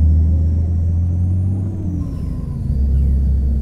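A 1994 Volvo NH12 truck engine in American Truck Simulator drones loud and close with a deep steady rumble, dipping briefly as it shifts before resuming its heavy hum.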